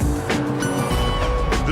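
A BMW M6 coupe drives on Isle of Man roads, its engine a loud steady drone with passing whooshes of wind and tyre noise close by.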